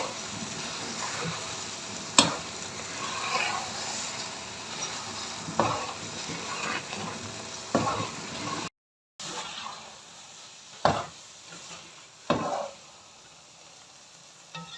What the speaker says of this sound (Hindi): अब इसको अच्छे से 5 मिनट के लिए भून लेंगे।